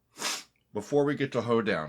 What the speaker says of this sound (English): I'm sorry for sniffling